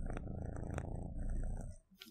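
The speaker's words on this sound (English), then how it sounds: "The purring, sorry." Cat purring close to the microphone, a soft steady rhythmic rumble that continues for a couple of seconds before tapering off.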